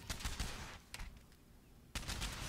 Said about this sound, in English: She's got like a full-out shotgun or something.